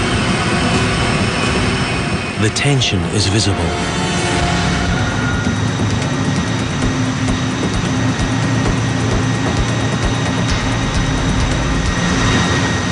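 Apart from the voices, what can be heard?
new container ship engine running at 110% load, overload test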